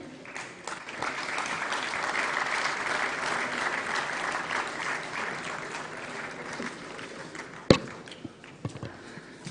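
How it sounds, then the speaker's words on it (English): Sustained applause from an audience at a national awards ceremony honouring a silver awardee, steady and full for several seconds before thinning out, with a sharp thump near the end. "It's a moment of celebration, and that's incomplete without a thunderous round of applause"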